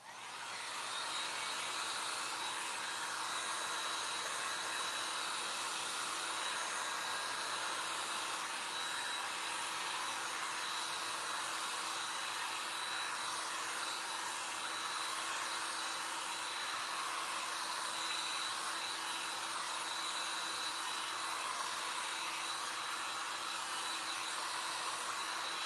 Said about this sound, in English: very quickly use our air dryer here.